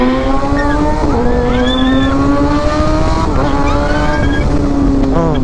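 A big bike motorcycle accelerating in traffic, its engine droning loud and continuous with rising pitch through successive gear changes, close up with heavy wind and road noise throughout.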